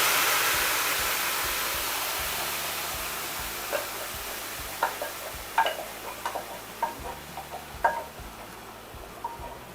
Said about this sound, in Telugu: ఈ మిశ్రమాన్ని పోపులో వేసి బాగా కలిగి పెట్టాలి